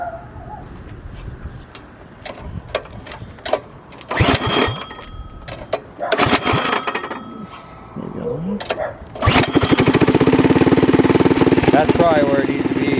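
A homemade doodle bug built from Amazon parts has a small engine that revs in bursts and then settles into a loud, steady drone at about half throttle, with people talking and birds cooing in the background.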